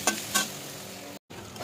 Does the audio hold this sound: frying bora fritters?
yes